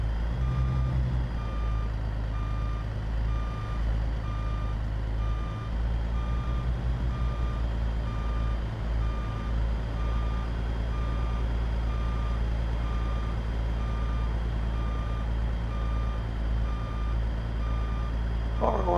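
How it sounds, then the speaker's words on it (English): A truck in American Truck Simulator backs up with its reversing alarm beeping in a steady, evenly spaced series over a low idling engine rumble, with someone talking now and then. "Oh, that's high-speed reverse."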